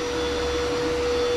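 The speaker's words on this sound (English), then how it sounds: "it's this vacuum that you can squirt out water or like soap with it, and then wipe it and it sucks it all up" A wet vacuum that sprays water or soap and sucks it back up, used while cleaning an Ek coupe car, runs with a loud, steady whine up close.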